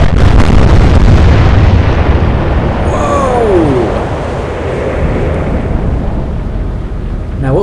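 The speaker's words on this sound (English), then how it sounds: "the Ajax gave us a fireworks display in the day through a magazine detonation from the sea turret" A warship's magazine detonates after a hit on a turret in Atlantic Fleet, a naval combat video game, producing a loud, continuous blast and rumble that fills the whole stretch with a brief whistling tone partway through.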